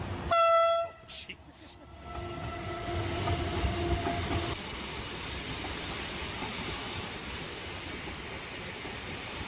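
The Flåmsbana train passing close by in Flåm, Norway, sounding a very loud, brief horn blast, followed by the sustained rumble and squeal of the rail cars rolling past; one person reacts briefly.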